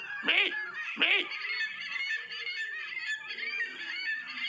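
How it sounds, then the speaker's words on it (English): A flock of geese honks and squawks harshly, with two loud separate calls near the start followed by a continuous chattering mix of calls at moderate distance. "In a flock, they communicate with harsh squawks and body movements."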